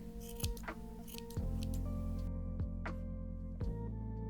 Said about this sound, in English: Then just cut it to make them even.